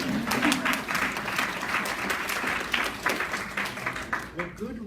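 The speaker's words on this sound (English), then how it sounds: "May I have some applause for that?" Audience applause at a live talk, steady clapping filling the room for several seconds, with a voice faintly mixed in toward the end.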